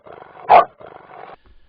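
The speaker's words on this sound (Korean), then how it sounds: "일단 멍멍이 한번 출연하겠습니다." A dog gives one loud, sharp bark up close, set between two quieter stretches of soft grumbling, growl-like vocalising, then ends in brief silence.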